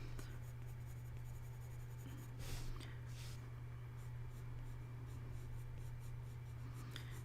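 A colored pencil works across paper to sharpen a small triangle in a marker-and-pencil drawing. The scratchy strokes are faint and close, heard over a steady low electrical hum.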